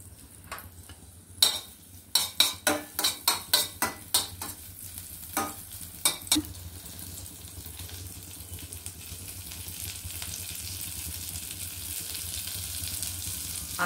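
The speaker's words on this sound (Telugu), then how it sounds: "పోపుకి కావాల్సిన సామాన్లు: ఎల్లుల్లిపాయలు వేసుకున్నాను" Garlic is tempered in oil and ghee, with a series of sharp spoon clinks against the pan followed by a steadily building sizzle of frying that grows louder toward the end.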